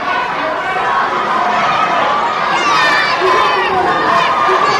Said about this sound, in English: And now the crowd trying to get behind Joe as he gets to his feet.